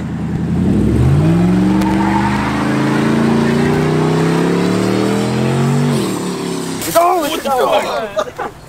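A car drives past close by, its engine rising in pitch as it accelerates, then fading, followed by excited shouting voices near the end.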